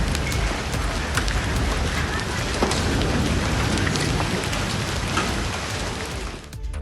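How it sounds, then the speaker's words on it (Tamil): Heavy rain driven by strong wind in Delhi, a dense, loud, continuous hiss of downpour with scattered sharper drop impacts throughout, easing slightly near the end. "இதையடுத்து பலத்த காற்றுடன் மழை பெய்தது."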